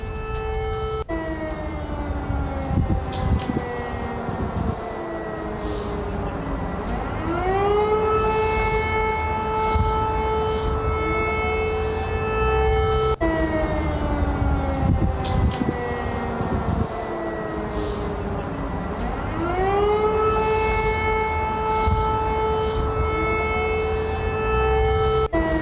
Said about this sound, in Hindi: अभी आपको हम दिखा रहे थे कि कैसे सायरन बज रहे हैं